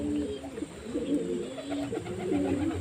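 Pigeons, mostly black ones, coo in soft, repeated low throaty phrases while being fed grain in the afternoon. The calls overlap and come from nearby, over a faint background hiss.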